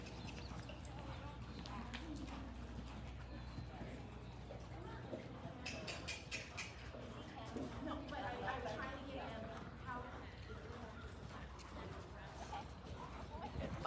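A horse canters on a flat riding surface, its hooves drumming in a rhythmic, moderately faint beat. A voice is heard in the background.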